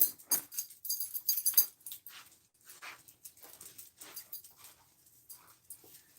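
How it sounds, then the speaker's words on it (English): A beagle at a door whimpering and whining in short high bursts, louder at first and then softer and intermittent, with no talking. "My beagle's here at the door. She wants out."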